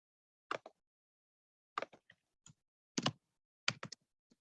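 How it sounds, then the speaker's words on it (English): Keys tapped on a computer keyboard while a message is typed, four short bursts of clicks with pauses between them, close and quiet with no talk. "let me type in my message here"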